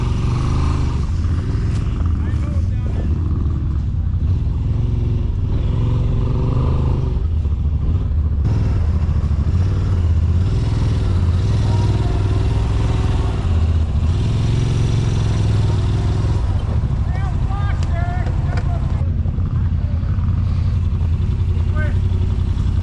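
A Can-Am Maverick side-by-side engine revs and labors while stuck in a muddy bog near trees, loud and close with rising and falling throttle, as people talk over the engine throughout.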